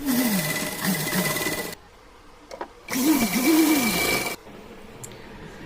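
A sewing machine stitches joined pieces of a handmade angrakha dress in two steady whirring runs, each about one and a half seconds, separated by a short pause with a faint click, all close and loud with no talking.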